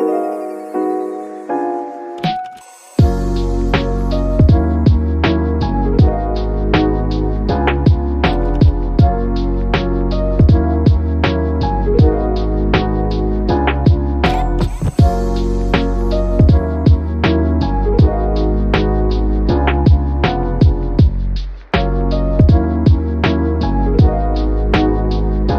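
A sewing machine stitches scrunchies in a small studio, running in fast, steady bursts of close, loud needle clatter with short stops and restarts between runs.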